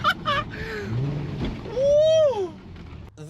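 Audi TT with a 3.2-litre VR6 engine and a new exhaust back box with resonator delete, revving in a rising and falling sweep, loud and close, with a low rumble underneath and brief voice sounds at the start and end.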